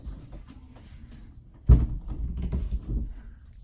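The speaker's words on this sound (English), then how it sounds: "Shut the door." A door is shut indoors with a single muffled thud, followed by a brief low rumble and some faint shuffling afterward.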